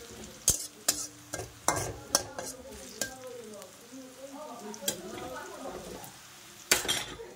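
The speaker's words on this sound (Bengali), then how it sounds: "দেখো আমার পেঁয়াজটা ভাজা হয়ে গেছে লাল লাল করে" A spoon clinks and scrapes against a pan as onions fry with ginger and garlic, sharp stirring knocks over a soft sizzle, with muffled talk partway through.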